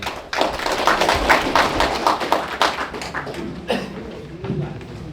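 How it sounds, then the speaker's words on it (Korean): Audience applause at an outdoor morning farming education session in the cold, welcoming the company head to the front; a dense run of claps starts sharply and continues steadily for several seconds, thinning slightly toward the end. "대표이신 박기현 대표님 큰 박수로 맞이해 주시기 바랍니다."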